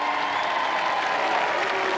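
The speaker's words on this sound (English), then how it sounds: "A little applause, please, for the Duchess of York." Studio audience applauding steadily for the Duchess of York at a 1987 televised royal charity tournament, a dense, continuous wash of clapping with faint crowd murmur.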